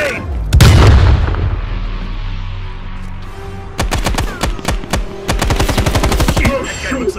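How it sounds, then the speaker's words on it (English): In a Call of Duty match at a USSR training base, a grenade bursts with a loud, deep boom. A long run of rapid automatic gunfire follows, close and dense, in sharp bursts. No voices are heard. "Grenade!"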